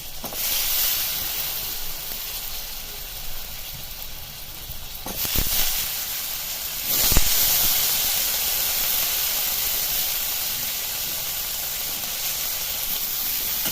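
Potatoes tipped into a hot spiced oil tempering for a potato curry give a steady, loud, close sizzling hiss with two brief sharper bursts partway through, and no voices over it.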